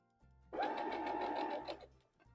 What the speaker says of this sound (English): And now the sewing machine's going to pull those all together.